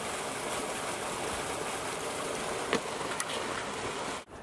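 Steady rushing water from a magical waterfall in a fantasy setting, a continuous even splashing roar with a brief dip near the end.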